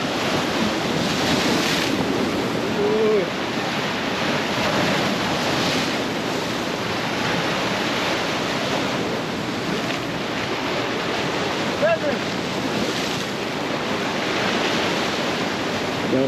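Seawater splashes and washes against a rocky shoreline at a fishing spot in Boca, Jamaica, a continuous broad roar of surf with bursts of wind noise on the microphone and no voices.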